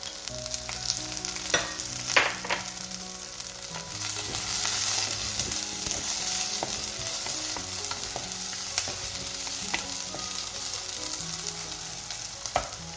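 Tomatoes and salt fry in a pan for a Sri Lankan fish curry, giving a steady sizzle with occasional sharper crackles and stirring scrapes. The sound stays close and continuous with no voices.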